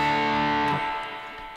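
An electric guitar runs through the overdrive effect of a Zoom G1xOn multi-effects pedal, a single sustained distorted chord that rings out and slowly decays, played alone.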